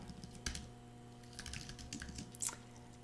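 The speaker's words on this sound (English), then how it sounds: "I'm going to go ahead and start typing this a little bit" Typing on a computer keyboard while writing React code, a scattered run of soft, close key taps with a few sharper clacks, quiet and without talk.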